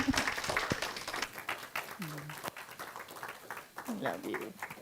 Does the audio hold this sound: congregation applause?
yes